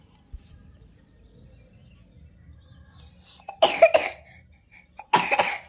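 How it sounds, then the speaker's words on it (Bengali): Two bursts of coughing ring out nearby, a cluster of harsh hacking coughs followed a second later by another short fit, after a long quiet stretch with faint background sounds. "কাশি হয়ে গেছে গো"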